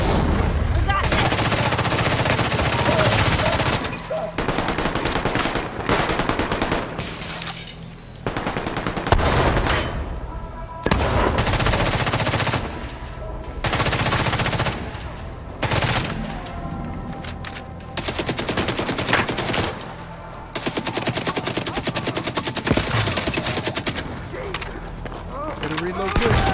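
Sustained gunfire in an urban shootout in The Division 2, set in New York City, with bursts of shots and impacts going on throughout, loud and dense, while voices talk over the action.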